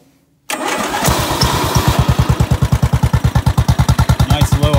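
A WWII Jeep-style off-road lawn mower's small engine cranks, catches and settles into a rhythmic, evenly pulsing low idle, loud and close with no talking.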